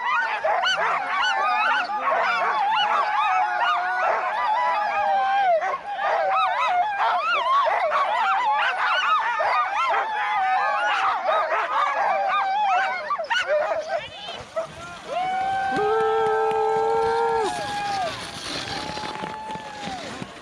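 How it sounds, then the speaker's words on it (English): Couple hundred sled dogs at the start of the Gunflint Mail Run dog sled race, a dense, loud chorus of yips, barks, howls and whines overlapping continuously, thinning toward the end into a few distinct wailing howls. "You can hear hundreds of dogs, couple hundred dogs, all at one time"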